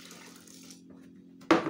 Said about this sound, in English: So let's add the remaining water.